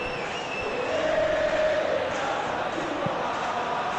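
Stadium crowd noise in the PES 21 football game swells with applause and cheers after a clean tackle, a broad steady roar with a brief thud near the end.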